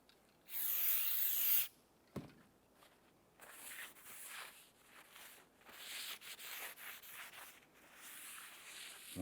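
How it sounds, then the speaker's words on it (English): Solvent sprays in a short loud hiss onto a new front brake rotor of a 2005-2007 Ford 500, followed by steady close scrubbing and wiping strokes across the rotor surface, with no talking. "use some solvent, and you want to go ahead and clean down the surface and get any of the shipping oils off of the rotor surface itself"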